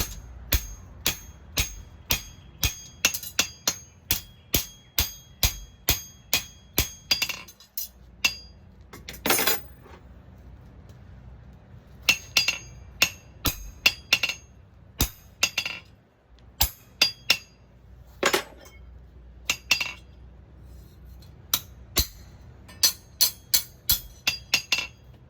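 A blacksmith hammers a hot metal bar on an anvil, sharp ringing metallic blows in fast steady runs broken by short pauses, close and loud with no talking.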